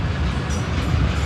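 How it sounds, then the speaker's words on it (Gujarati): A freight train passes close by at night, a loud, dense rumble of rolling wagons that fills the whole moment with no talking. "માલગાડી છે ભાઈ, માલગાડી."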